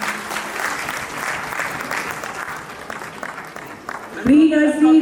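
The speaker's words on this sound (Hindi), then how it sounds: "तालियां रुकनी नहीं चाहिए ऑडियंस।" Audience applause at a school prize ceremony, a sustained crowd clapping that runs steadily throughout, with a voice speaking over an amplified sound system joining near the end.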